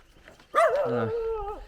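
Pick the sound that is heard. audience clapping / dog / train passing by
dog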